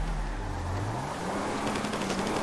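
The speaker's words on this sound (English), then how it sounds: "Oh, they're shooting." Gunfire comes from pursuing cars in the video game GTA V as rapid bursts of shots over a constant engine drone, with the firing growing denser toward the end.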